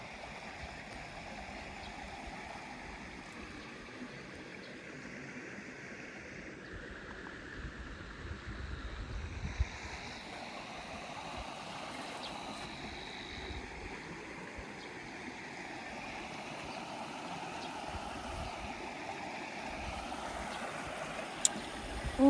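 A canyon waterfall and its flowing stream make a steady, soft rushing wash that continues unbroken through the whole stretch, with no one speaking.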